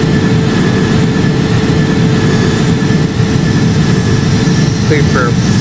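Airbus A330 jet engines in a Project Flight game drone loud and steady, a dense low roar and whine throttling back on approach, with faint chirps near the end.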